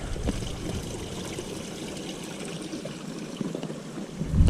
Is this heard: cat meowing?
no